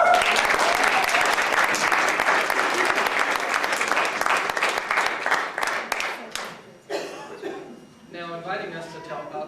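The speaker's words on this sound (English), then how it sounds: "let's bring him on with a round of applause." Guests at a wedding dinner in the Joseph Smith Memorial Building give a loud, dense round of applause for about six seconds, with a few chuckles mixed in. It fades out and talking follows.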